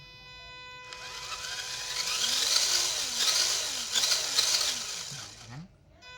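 A WPL D64-1 RC truck motor runs at half throttle, a thin electric whine rising in pitch and holding steady for several seconds before cutting out, close and fairly faint.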